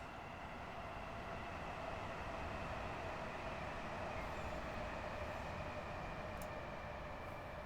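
A train rolls steadily across a viaduct on a seaside trip from London Victoria to Littlehampton, giving a continuous broadband rumble and rushing hiss heard from inside, even and fairly faint throughout.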